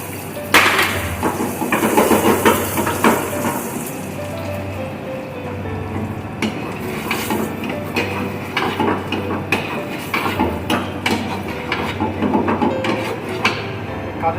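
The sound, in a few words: cashews frying in desi ghee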